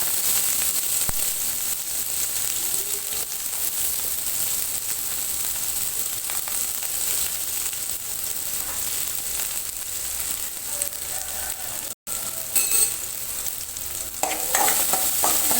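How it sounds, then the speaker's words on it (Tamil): Onion frying with fenugreek seeds, cumin and mustard seeds in oil in a pan for a bitter gourd tamarind curry, a dense, steady sizzle and crackle with stirring scrapes, broken by one brief dropout, no talking. "அடுத்து வெங்காயம் போடுறோங்க"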